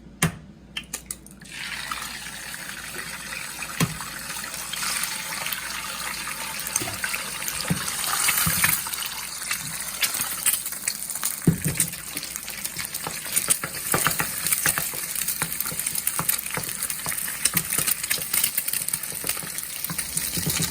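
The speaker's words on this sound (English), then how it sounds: "So oil is hot. Put 2 eggs." Two eggs fry in hot vegetable oil in a pan, a steady crackling sizzle with sharp pops and spatters running continuously, close and moderately loud, with no voices.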